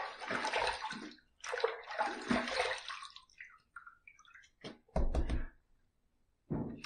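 Water runs from a tap while someone rinses after shaving, coming in several loud, broken bursts separated by short pauses and a few soft knocks.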